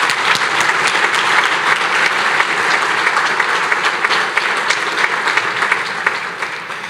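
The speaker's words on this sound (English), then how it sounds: "Give Ashley another round of applause, please." A gala audience at an all-stars sports awards event gives a sustained, loud round of applause, steady dense clapping that slowly tapers toward the end.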